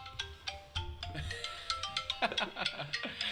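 A phone ringtone sounds during a podcast conversation, a bright repeating electronic melody of short tonal notes in a quick steady rhythm, fairly close and clear against quiet room tone.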